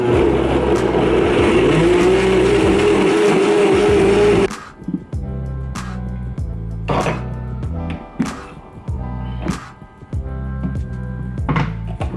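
A blender blending a spirulina drink roars loudly with a rising motor whine for a few seconds, then cuts off, followed by scattered clinks, knocks and handling noises.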